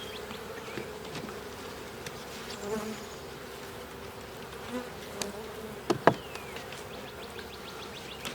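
Honey bees hum around an opened brood hive on a summer morning. The buzzing is soft and continuous, with several individual bees passing close to the microphone and a sharp knock or click near the end.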